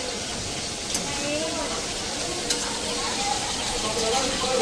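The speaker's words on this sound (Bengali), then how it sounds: "আমি একটু মাছ ভাজতে বসেছি" Fish fries in a pan during an overnight home cooking session for a festival feast, giving a steady close sizzle and hiss with occasional louder crackles. A voice talks over the frying.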